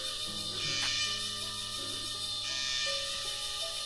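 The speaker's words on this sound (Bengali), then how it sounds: "ঝিঝি পোকার শব্দ আপনারা হয়তো আবার শুনতে পাচ্ছেন।" Crickets chirp in a forest on the trek to Hamham waterfall, a steady, dense high-pitched drone that holds unbroken throughout with no voices over it.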